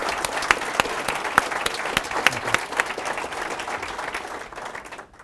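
A corporate audience gives WestRock CEO Steve Voorhees a round of applause, with brisk, crisp clapping and some distinct nearby claps, tapering off and stopping abruptly after about five seconds.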